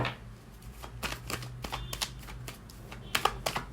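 Tarot cards being shuffled close up, a quiet run of soft riffling snaps and flicks in uneven bursts, with faint low hum underneath.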